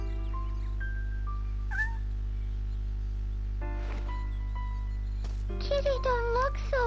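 A kitten in the Shenmue video game gives several thin, plaintive meows, spaced out and then clustered near the end, over a constant low game hum.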